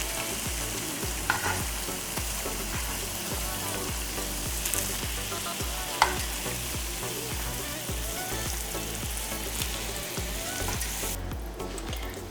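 Slices of Spam sizzle and fry steadily in a pan, browning to a caramelized finish, with a constant close crackle running throughout and only a few brief clicks.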